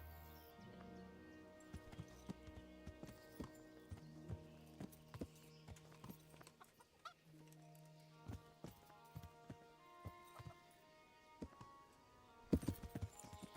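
Horse hooves clip-clop in the medieval video game Kingdom Come: Deliverance, a quiet, irregular run of close hoof clops over low ambient tones, ending in a sharper burst of hoof noise.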